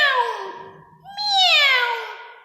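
Two drawn-out meows sound close and clear one after the other, each falling then rising, in the manner of an animal-sounds lesson for children. They may be a person imitating a cat.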